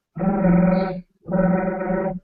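A voice imitates a whirling blade turning on a slightly loose bearing, making two sustained buzzing hums of about a second each, separated by a short pause.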